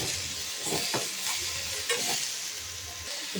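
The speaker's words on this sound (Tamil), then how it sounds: "போட்டு நல்லா கலக்கணும்" Spinach (palak) with salt sizzles steadily in a hot frying pan while a spoon stirs through it with soft scraping strokes, close and continuous.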